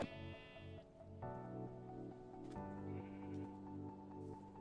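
Minecraft sheep bleat repeatedly in long, wavering, nasal calls, one after another with brief breaks, fairly close and clear with no talking.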